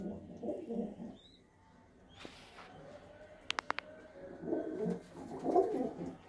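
Pigeons of a Ludhiana loft coo in low, bubbling bursts at the start and again near the end, with a few sharp clicks in between and quiet background.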